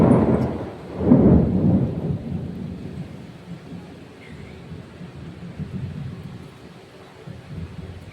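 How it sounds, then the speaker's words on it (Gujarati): A deep roll of thunder rumbles at the start, then fades into a steady wash of heavy rain that continues throughout. "એકવાર તો વરસાદ આવીને વહી ગયો અને આ બીજી વાર પાછો ચાલુ થયો"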